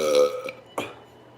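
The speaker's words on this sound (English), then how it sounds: "I thought I would share some haunted burps with you" A loud, voiced burp from a man, followed by a shorter second burp a moment later, close to the microphone with no talk.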